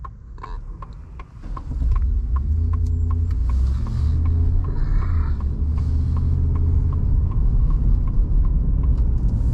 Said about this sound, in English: being naturally aspirated, you just step on the gas, it just gets going, takes off pretty quick.